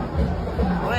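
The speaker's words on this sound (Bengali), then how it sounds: "এত ভিড়।" Dense crowd at the Agameshwari Kali Puja in Shantipur, a close, steady babble of many voices merging into a continuous hubbub.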